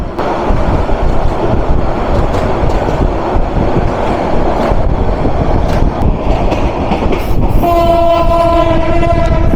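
The Parabat intercity express train roars past at close range on a double line, with rumbling wheels and clatter, and near the end a loud sustained horn blares over the noise.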